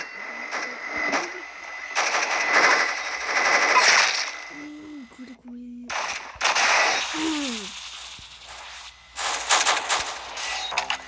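Minigun fire in the Roblox shooter Arsenal: long, loud bursts of rapid, buzzing gunfire broken by brief gaps, with short electronic game tones between volleys and faint voice underneath.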